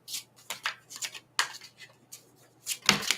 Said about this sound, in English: I'll give it 5 shuffles. If nothing comes out, then I'll switch decks.